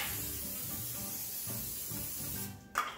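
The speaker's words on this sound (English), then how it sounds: "we are gonna spray it insanely well" Cooking spray hisses onto a cookie sheet in one long, steady burst that runs close and fairly loud for most of the moment, then breaks off before a short final squirt.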